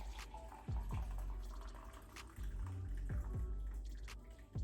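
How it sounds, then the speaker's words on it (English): Coffee is poured into a cup, a quiet, close liquid stream with a few small splashes and clinks, heard alone without voices. "Pour my coffee."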